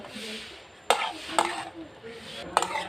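Fried potatoes stirred and sautéed in a pan for a Bengali prawn curry, with a few sharp spatula scrapes and clinks against the pan over a soft sizzle, close and alone.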